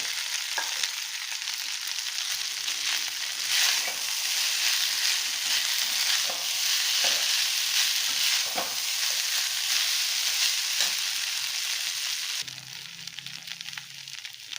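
Ingredients for a festive rice dish sauté in a pan with a loud continuous sizzle, broken by scraping strokes of a stirring spoon, before the frying drops off abruptly near the end.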